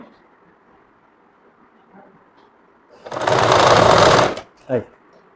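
A sewing machine stitches kameez fabric in one loud continuous run lasting about a second, followed by a short second burst, after a quiet stretch of faint background.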